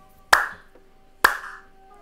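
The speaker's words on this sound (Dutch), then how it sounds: "En nu zo klappen." Two sharp, loud hand claps spaced about a second apart, each with a short ringing tail in a quiet room.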